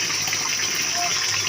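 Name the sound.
water filling a container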